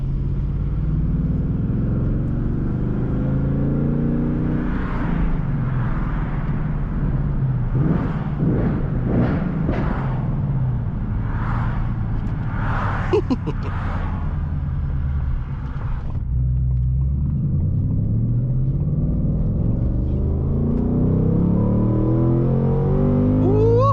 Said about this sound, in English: this just sounds like a classic muscle car grumble